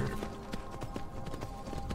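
Horse hooves clip-clopping in the Skyrim video game, a steady run of sharp, evenly spaced hoof strikes close up over a faint ambient background, with no talk.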